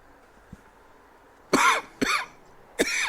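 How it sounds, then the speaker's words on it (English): Three loud, harsh coughs from a person, close by, in quick succession with a short pause before the last, after a quiet stretch with a faint tap. "Oh, now I'm going to cough again."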